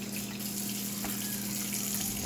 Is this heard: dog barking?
no